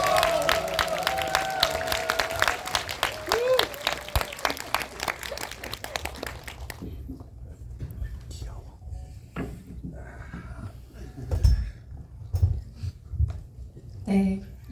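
Audience applause at a film screening Q&A welcoming director Bong Joon-ho, a dense burst of many hands clapping that then stops abruptly, leaving a quiet room with murmurs and a few thumps.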